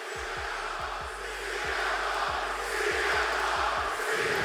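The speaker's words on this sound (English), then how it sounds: "crowds making so much noise he can't cut his promo" A wrestling arena crowd roars loudly and continuously, with rhythmic chanting and clapping in a steady pulse throughout, no clear speech.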